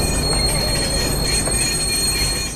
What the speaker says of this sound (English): Southbound train, arriving short.